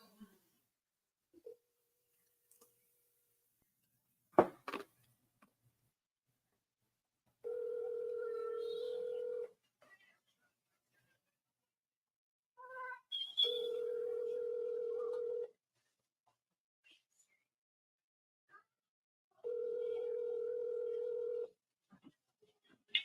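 Outgoing phone call ringing back with repeated electronic ring tones in three separate bursts, redialed after no answer, with short clicks and faint noises between rings.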